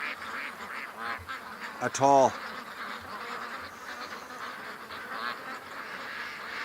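Muscovy ducks at the water's edge give one brief, nasal, honking call against steady outdoor background noise, while a person talks nearby.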